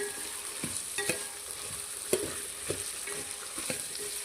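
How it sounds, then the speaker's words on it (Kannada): Raw peanuts fry in oil for vangibath, a constant crackling sizzle punctuated by a series of clear, evenly spaced scraping and knocking strokes of a spoon against the pan, close and fairly loud, with no voices. "ಎಣ್ಣೆ ಒಳಗಡೆ ಇದು ಫ್ರೈ ಆಗಬೇಕು."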